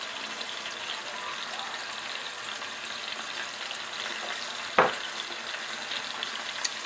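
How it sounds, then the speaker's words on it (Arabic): Chicken frying with onion and spices for Moroccan seffa madfouna, a steady soft sizzle throughout with one brief sharp clack near the end, no voices. "وغادي نحركو الدجاج ديالنا مع البصلة والعطرية"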